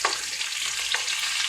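Shrimp frying in a pan for shrimp and grits, giving a continuous, close, bright sizzle with a slight crackling texture and no talking.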